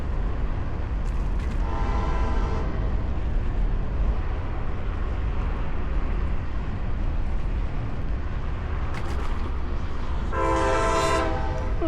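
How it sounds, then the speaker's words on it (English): A loud train passes close by, its rumble steady throughout with two blasts of the horn, heard from a trail on a Gotrax GX3 electric scooter ride. "Ooh, that train is loud."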